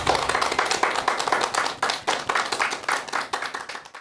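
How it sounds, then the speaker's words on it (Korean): An audience at a Korean lecture show claps warmly to welcome the speaker, a loud, close, dense burst of hand clapping that continues evenly for about four seconds and then tapers slightly. "큰 박수 부탁드립니다."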